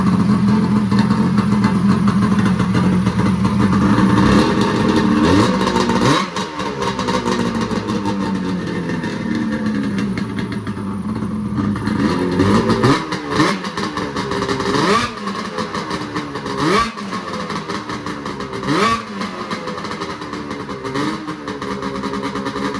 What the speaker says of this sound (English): I'll go ahead and start up for you guys